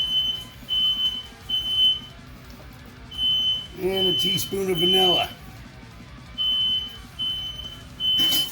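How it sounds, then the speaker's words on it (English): A smoke alarm in a kitchen emits repeated high, piercing beeps in short bursts, moderately loud and steady behind a person talking through a recipe. "Don't mind the smoke alarm in the background."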